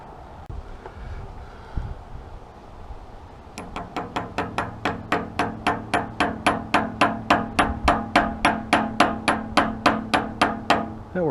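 A hammer taps a part for a Jet 6-inch jointer's helical cutter head conversion in a workshop, a long run of about twenty sharp, evenly spaced metallic knocks after a few quiet seconds.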